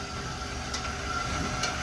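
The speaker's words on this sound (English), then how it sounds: "If we were to hold the retract button here, we will see the jacks begin to raise." Hydraulic leveling jacks on a 2021 Cherokee Alpha Wolf Limited travel trailer retract with a steady mechanical hum and whine, continuous and close, with no talking.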